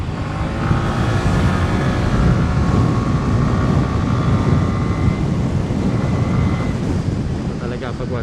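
A CFMoto Aura 150 scooter with a 150cc engine on its first ride, a steady engine whine buried under loud, continuous wind rush at the microphone.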